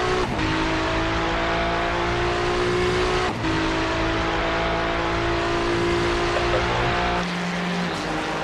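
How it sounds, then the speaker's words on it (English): A Porsche race car engine howls in a racing game at Bathurst 12 Hour, a loud sustained high-revving drone with a couple of gear shifts and slight dips in pitch, heard close and continuous. "That Porsche's back on track."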